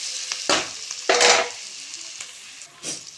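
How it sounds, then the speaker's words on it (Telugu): Capsicum sizzles in hot oil as turmeric and ginger-garlic paste are added, with a few loud bursts of frying and stirring, each fading into a quieter crackle, close and alone. "క్యాప్సికమ్ కూడా మంచిగా ఆయిల్లో వేగింది ఇప్పుడు మనం ఇందులో పసుపు అల్లం వెల్లుల్లి పేస్ట్ వేసి కలుపుదాం"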